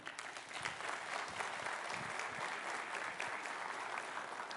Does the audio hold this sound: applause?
yes